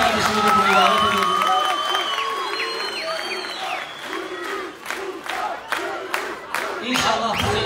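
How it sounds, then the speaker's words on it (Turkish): A crowd at the opening of a Roma association in Akhisar claps and cheers, with shouts, whistles and mixed voices over steady applause that swells and dips throughout. "Sizlerden kocaman alkış istiyorum."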